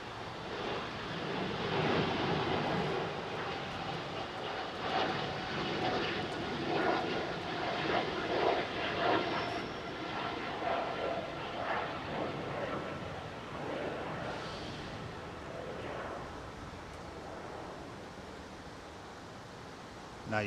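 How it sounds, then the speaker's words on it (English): An E2 jet at London Heathrow airport roars steadily for about twenty seconds, a broad rushing engine noise that slowly fades as it moves away. "this is the same as the E2 jet that we saw going out with KLM"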